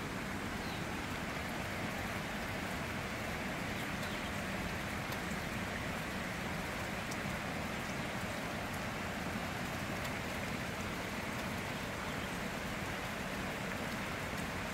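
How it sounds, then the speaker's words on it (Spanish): Steady rain falls throughout, a dense, even hiss of drops on surfaces with no pauses or voices, close and continuous. "ya comenzó a llover"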